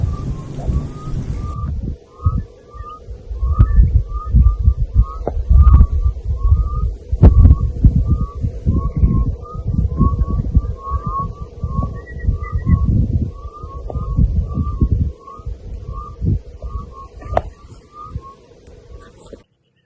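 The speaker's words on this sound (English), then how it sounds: "we started hearing some frogs calling in the distance" Frogs call after rain in the Northern Cape, a steady series of short chirping pulses repeating in the distance, over heavy low rumbling and handling noise that fade toward the end.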